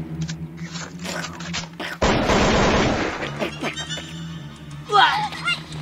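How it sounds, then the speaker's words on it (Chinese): A small toy pistol fires during a live-action kids' game, giving a burst of sharp rapid bangs in the middle, with people talking and chattering around it. "开枪"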